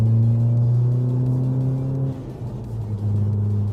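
A Volkswagen Polo GTI pulls uphill under acceleration, its steady engine drone holding strong and close with a brief dip midway before the pull resumes.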